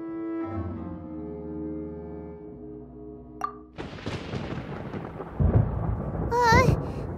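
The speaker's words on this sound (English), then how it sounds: "Where is the storm headed?" Thunderstorm in the Genshin Impact video game: a few seconds of calm melodic music, then a loud, sustained rolling rumble of thunder that swells toward the end.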